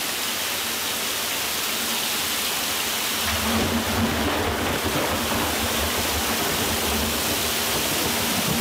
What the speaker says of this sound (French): Donc ça, c'est un orage